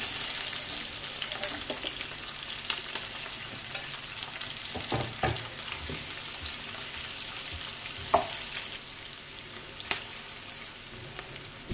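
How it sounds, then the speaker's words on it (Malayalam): Three sliced onions fry in hot oil for a Kerala fish dum biryani, giving a continuous, fairly loud crackling sizzle with occasional stirring scrapes and small pops. "ചൂടായ എണ്ണയിലേക്ക് ഇത് കണ്ടോ സവാള, 3 സവാളയാണ് സ്ലൈസ് ചെയ്താണ്,"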